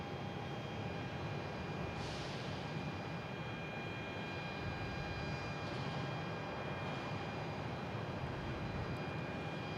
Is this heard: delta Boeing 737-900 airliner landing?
yes